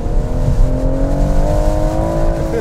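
A BMW M140i accelerates hard in second gear on a wet road in rain, its engine note climbing steadily in a continuous, loud, close drone with no talking.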